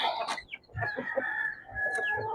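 Several chickens, fed at feeding time, cluck and chatter close by, a steady stream of short calls with a rooster-like cry rising over them.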